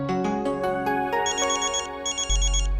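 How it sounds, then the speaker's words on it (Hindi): A melodic electronic phone ringtone plays a bright, repeating tune of chiming notes, close and clear, with no talking. "ओहो, पॉप्सी का फोन मामा"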